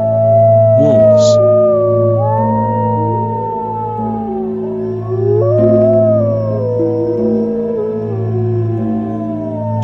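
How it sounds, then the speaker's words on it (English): Wolves howling in a long, loud chorus of rising and falling wails that overlap and sustain throughout, with several voices weaving together close by. "When they howl over the moon on a spooky night, you can get shivers right down your spine."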